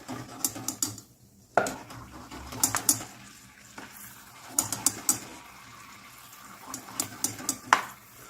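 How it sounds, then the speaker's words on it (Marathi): Almonds frying in hot oil for potato chivda, a crackling sizzle interrupted by clattering metal stirring and scraping against the pan in uneven bursts, close by and without talk. "बदाम पण छान फ्राय करून घेतलेले आहेत"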